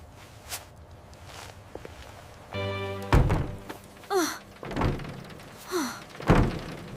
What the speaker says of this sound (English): I heard a loud thump.